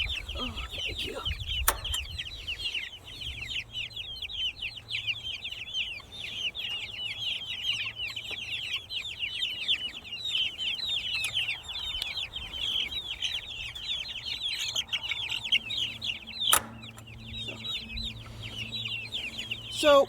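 Chickens being moved into a chicken tractor cluck and chatter continuously throughout, a busy close flock of fowl with occasional knocks and handling bumps, fairly quiet overall.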